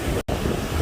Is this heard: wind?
yes